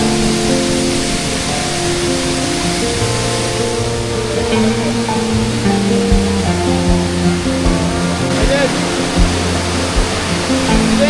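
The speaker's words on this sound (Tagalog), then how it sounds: "All goods pala yung falls dito." A waterfall at a campsite in Malico, Pangasinan roars steadily and loudly up close, a dense continuous rush of falling water with no pauses.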